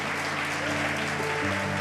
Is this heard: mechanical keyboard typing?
no